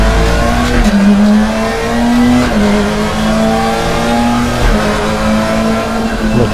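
A race car engine in the RaceRoom racing game revs loud and steady, climbing in pitch through several gear changes with brief dips between, close and continuous.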